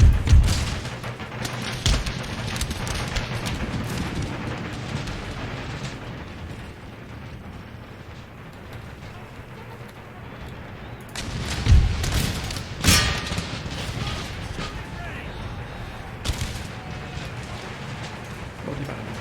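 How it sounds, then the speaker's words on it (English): Mortar artillery fire in Empire: Total War, a steady rumbling barrage of distant booms with a couple of sharper, louder blasts about midway and later, with no talking. "look at that, 24 mortars"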